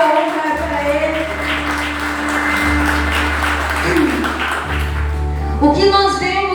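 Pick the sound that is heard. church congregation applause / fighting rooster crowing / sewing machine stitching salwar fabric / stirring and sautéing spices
church congregation applause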